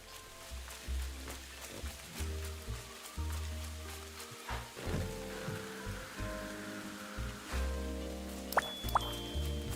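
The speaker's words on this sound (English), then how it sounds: "So it's raining in the wrong spot." Rain patters continuously with scattered drips and splashes in the video game Hello Kitty Island Adventure, under a looping background score and occasional sharp effects.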